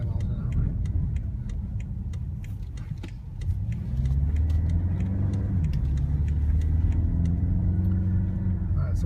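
Interior of a 2015 BMW X6M cruising at about 25 mph on city streets, a steady low engine and road rumble with a faint rhythmic ticking on top, dipping briefly before settling into a fuller, even drone.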